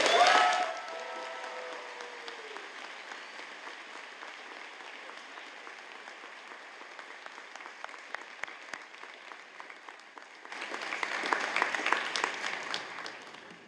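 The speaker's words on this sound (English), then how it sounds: "Let's give him a big round of applause." Sustained applause from a convocation crowd at a BCIT graduation ceremony, steady and even for most of its length, then swelling louder near the end.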